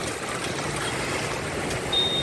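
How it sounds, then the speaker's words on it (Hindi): Fast-flowing floodwater from the Kaliyasot dam rushing past a flooded area during heavy rain, a loud, steady, unbroken roar of churning water with no voices. "ये है पानी का वेग, बहुत तेजी से बहाव चालू है इस समय"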